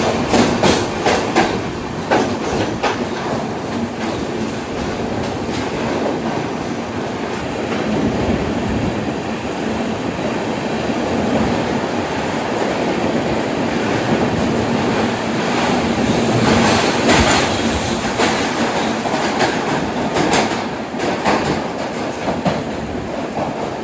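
A sleeper class coach of the Netravati Express rumbles slowly at about 30-40 km/h through the long Karbude tunnel on the Konkan Railway, a loud continuous roar with faint rhythmic clatter of wheels echoing throughout.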